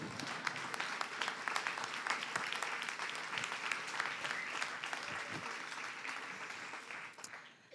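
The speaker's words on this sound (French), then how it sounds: "On peut applaudir aussi." Sustained applause from an audience at a public meeting in Montreuil, a dense, steady wash of many hands clapping that carries on for several seconds before tapering off at the end.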